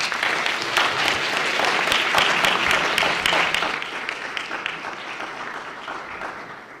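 Audience applause welcoming the keynote speaker at a student research day, a steady wash of many hands clapping that swells early, then slowly thins and fades toward the end, with no talk over it.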